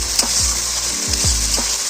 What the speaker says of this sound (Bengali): এবারে এই মশলাটা দিয়ে একটুক্ষণ নাড়বো,